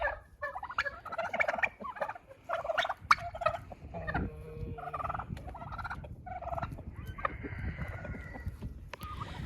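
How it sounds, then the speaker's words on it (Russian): Turkeys gobble repeatedly outdoors at a poultry yard, with a few overlapping calls and hen-like clucks amid a low, busy background; no talking. "Индюкам надо двигаться, шевелиться, и тогда они быстрее начнут нестись."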